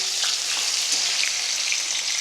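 Sliced okra dry-frying in a pan with no oil or salt added, giving a constant close crackling sizzle on its own with no voices.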